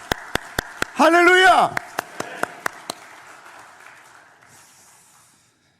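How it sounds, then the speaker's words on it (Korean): A church congregation at a Sunday worship service clapping together in a steady, even beat of sharp claps. A loud voice calls out partway through, and the clapping then trails off into room echo. "우리 이 시간 박수로 경배하며 주님께 영광을 올려드리겠습니다."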